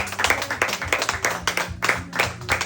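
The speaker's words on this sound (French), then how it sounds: "On acclame fort Jésus." Church congregation applauding during a French-language worship service, steady rhythmic clapping from many hands, moderately near and continuous with no talk.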